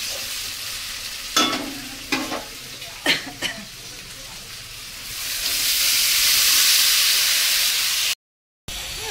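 Food frying in a kadai, stirred with a few sharp scraping knocks early on, then a loud, rising, hissing sizzle that fills the rest, briefly cut out near the end.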